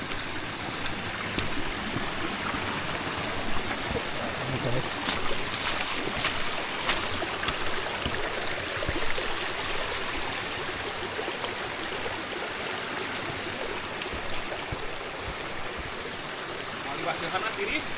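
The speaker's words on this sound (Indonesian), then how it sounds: "Ada sungai." A river flows steadily beside a dirt trail near the Curug Putri Kencana waterfall at Cisadon, a continuous broadband rush of water throughout, with occasional faint voices and clatter mixed in.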